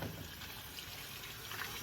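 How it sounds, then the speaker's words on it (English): Hot water poured into a pot of oxtail stew, a steady soft trickling stream running the whole time, quiet and close with no talk over it. "I'm gonna pour some water."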